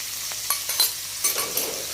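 A spoon stirs gram flour as it roasts with okra in a pan for a masala bhindi dish. Light, repeated scraping strokes run over a soft, steady sizzle.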